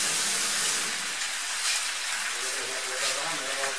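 Water poured into a cooking pot while making Cuban congrí, a steady bright hissing gush that runs continuously and close to the microphone.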